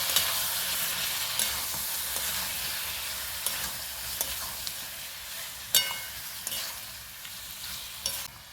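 Boiled chicken stirred and fried with browned onions for a malai curry: a strong close sizzle that fades slowly, punctuated by repeated scraping and clinking of a spatula against the pan, with no one speaking.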